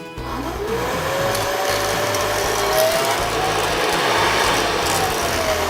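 A steady whirring motor drone with airy broadband rush, running continuously and fairly loud, its pitch shifting slowly up and down.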